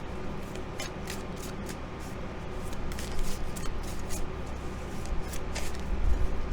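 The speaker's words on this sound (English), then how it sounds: "Let's draw a few more tarot cards." Tarot cards being shuffled and drawn by hand, a run of soft, papery riffles and slides close up, building slightly louder toward the end.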